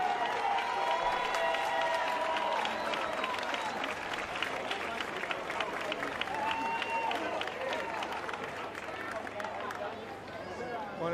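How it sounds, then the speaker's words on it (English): A crowd at a parade claps in a sustained, fairly distant round of applause with scattered cheers and background chatter. "Hopefully we can encourage them with large rounds of applause for the effort they've made"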